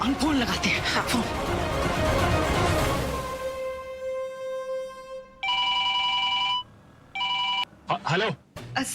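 After a burst of noisy commotion, a telephone rings in two long electronic trills, close and clear, followed by brief voices.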